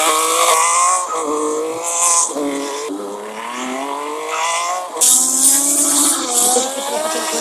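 Motorbike drifting in a modded GTA video game: a loud, continuous high engine whine with wavering revs, rising and dipping in pitch, plus hissy tire-scrub noise, no voices.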